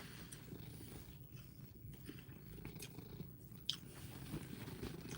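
Very faint and close, a cat chews a meat treat with soft, wet chewing and crunching sounds, and a low purr seems to run underneath.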